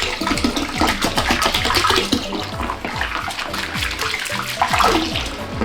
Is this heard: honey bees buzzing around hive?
no